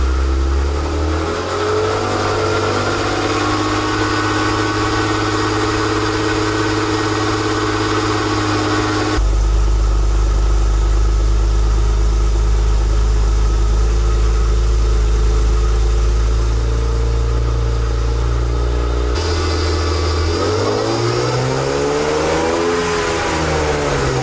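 A BMW E36 race car engine fitted with eBay headers idles loudly and close, a heavy rumbling drone with abrupt shifts in tone and a brief rev near the end.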